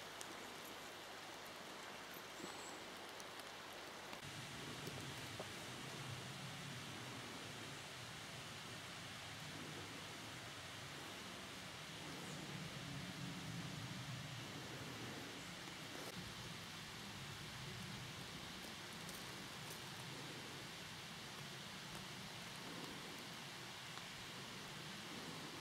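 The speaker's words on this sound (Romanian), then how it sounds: "Plouă. Pic, pic, pic." Steady rain falling and dripping outdoors on a mountain trip in Romania, a continuous soft hiss with scattered drops, moderately quiet throughout and no voices.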